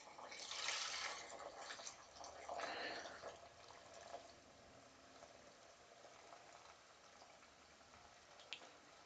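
Soft, steady sizzling crackle of frying oil at 250 degrees for fried chicken, strongest in the first few seconds and then fading to a quieter hiss, with no talking.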